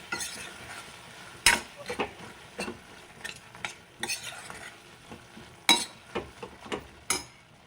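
Tomato masala with chilli powder stirred in a frying pan, a low sizzle under irregular spatula scrapes and sharp clinks of metal against the pan, some strokes much louder than others.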